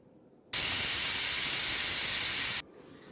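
A pressure cooker boiling potatoes releases a loud, steady jet of hissing steam that starts abruptly, runs for about two seconds and cuts off sharply, with quiet room tone before and after.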